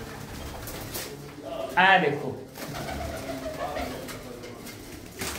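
Racing pigeons, including a hen that won an Innova car, coo steadily in a low burbling drone, with a man's short remark and a brief louder burst partway through.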